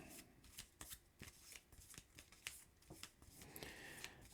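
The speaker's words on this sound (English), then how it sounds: "We shuffle up all the villains" Playing cards for the Marvel Champions card game shuffled close up, a steady run of crisp riffling flutters and taps at a quiet level, with no talking.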